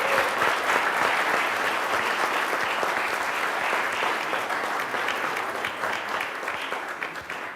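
A crowd at a National Night Out community gathering claps loudly and steadily, the applause holding strong then tapering slightly toward the end.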